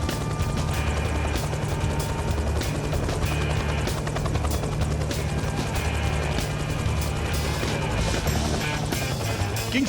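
A helicopter flies over Kings Canyon in Watarka National Park, Northern Territory, with a steady, loud rotor thudding and engine whine heard from inside the cabin throughout.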